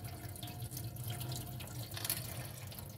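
Tap water runs and splashes while shampoo is rinsed from a Blythe doll's hair, a soft continuous trickle with faint drips and splatter, close and fairly quiet.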